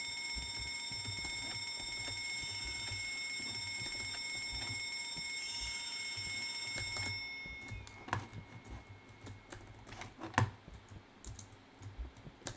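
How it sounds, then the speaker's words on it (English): Fire alarm ringing steadily and loudly inside a horror video game, a continuous electronic bell that cuts off partway through, leaving scattered sharp knocks and game noises. "A fire alarm, I will press"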